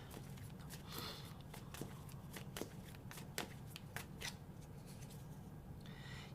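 A deck of cards being shuffled, a quiet run of crisp riffling clicks and snaps over a low steady background hum, fairly close and without any talk.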